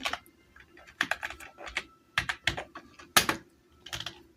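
Typing on a computer keyboard while entering a formula into an Excel marksheet, with quick bursts of key clicks separated by short pauses, close and fairly quiet with no talking.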